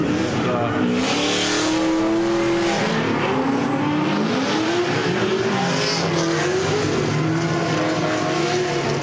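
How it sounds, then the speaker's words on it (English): A loud V8-swapped Nissan 350Z race car engine revs and shifts continuously on a race track, pitch rising and falling as it passes, with speech under the engine noise. "That lead car is loud, very loud."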